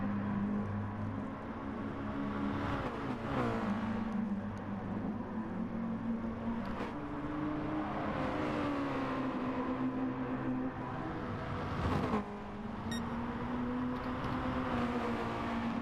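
Race cars in a sim racing video game at Tsukuba, several engines droning and shifting pitch steadily throughout, with rising and falling revs as cars jostle close together and brief sharper bursts near the middle and end.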